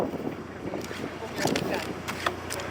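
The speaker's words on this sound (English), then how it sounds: "It's very, very windy." Strong gusty wind buffets a narrowboat on the Grand Union Canal, Leicester section, a continuous rushing roar with microphone rumble and brief louder gusts.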